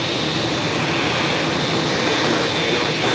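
An Etihad Airways Boeing 787-9 Dreamliner, flight 101 from Abu Dhabi, arrives at JFK with a loud, steady jet roar that stays constant with no voices.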